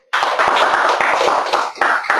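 A group claps together in a classroom, a loud, close burst of many hands beating rapidly with a brief dip before continuing.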